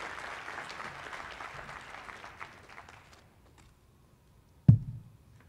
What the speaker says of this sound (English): Let's give ZIRUI a round of applause for a great talk.